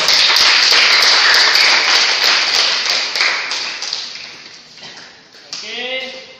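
A classroom group claps together during a heavy-equipment engineering lesson, a dense burst of many hands that stays loud and steady, then thins out and fades as a voice begins talking over the end.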